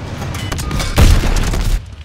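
A loud, heavy boom bursts out mid-clip as an enemy tank is destroyed in the video game Call of Duty: WWII, amid rumbling battle noise, with a dense wash of low-end crackle before and after.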